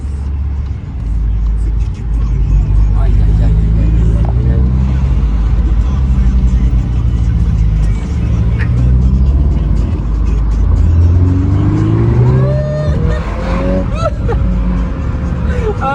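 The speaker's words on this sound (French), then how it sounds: "C'est vraiment le bruit avec le turbo, ouais." Volkswagen Golf 8R with an Akrapovic exhaust line and turbocharged engine revving and accelerating, a loud throaty rumble with rising pitch sweeps and turbo whoosh, while people talk over it throughout.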